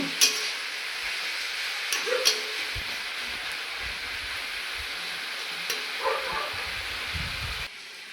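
Onions with salt frying in a pan: a steady hiss of sizzling with a few soft stirring knocks and scrapes. No one speaks, and the sound cuts down near the end.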